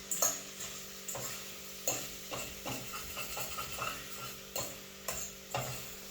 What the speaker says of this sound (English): Do some sauteing. Because I want to bring everything together.